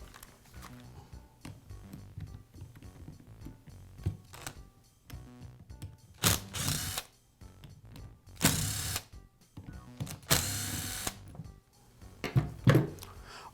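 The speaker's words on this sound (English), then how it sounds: "I'll remove the screws from the pad." Screws are backed out of the sanding pad on a Makita sander, with small mechanical ratcheting and scraping clicks, several bursts of louder gritty friction, and quiet handling noise between.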